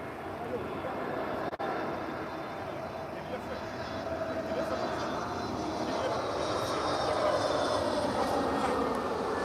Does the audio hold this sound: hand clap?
no